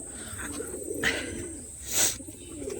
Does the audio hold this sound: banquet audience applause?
no